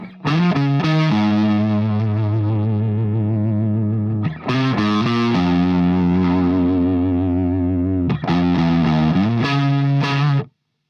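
A thick, fuzzy, heavily distorted electric guitar plays long sustained notes in three loud phrases, separated by short pauses and quick picked notes.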